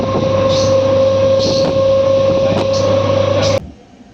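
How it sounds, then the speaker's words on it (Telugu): A MEMU passenger train cruises along the line between Markapuram Road and Tenali with a steady, loud rolling roar, a sustained hum and regular wheel clicks over rail joints, before the noise drops away abruptly near the end. "మన ట్రైన్ క్రూజింగ్ స్పీడ్ చూసుకోవచ్చు"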